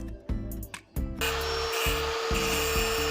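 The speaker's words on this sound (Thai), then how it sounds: "เอาทำงานด้วยเครื่องตัดเครื่องเจียร์ต้องระวังนะ" An angle grinder smooths the contact face of a part on a Yamaha RXZ135 motorcycle, a few short scraping passes followed by a steady, loud, continuous whine.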